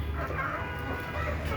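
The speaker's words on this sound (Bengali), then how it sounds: "এখানেরগুলো হচ্ছে কুচা মুরগি" Broody native desi hens clucking in a poultry shed, a low steady murmur of clucks under a constant background hum, close and moderately loud, with no talk.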